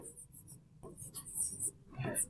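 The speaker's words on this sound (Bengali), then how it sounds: "তাহলে আমরা লিখে দিচ্ছি" Pen scratching on paper in short strokes with brief pauses, close and quiet, as a line is drawn and labelled for a geometry problem, with soft murmuring speech in the background.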